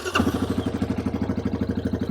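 A Yamaha Kodiak 700 ATV's single-cylinder engine catches with a brief starter burst, then settles into a loud, even, rapidly pulsing idle up close.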